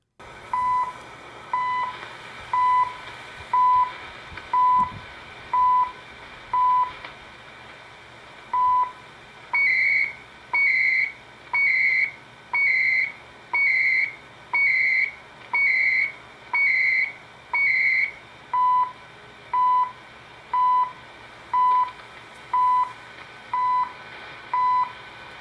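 CHU time signal radio broadcast: a steady series of short, evenly spaced beeps once per second, with a higher-pitched run of tones in the middle, heard alone over faint radio hiss.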